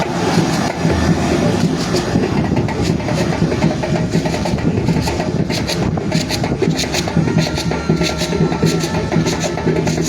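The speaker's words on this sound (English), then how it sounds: "The flight is leaving." Aircraft departing Roberts International Airport in Liberia: a steady, loud engine roar that holds continuously throughout, with a broad rumbling drone and some fluttering texture, no talk.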